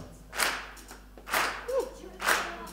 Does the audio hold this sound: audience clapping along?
yes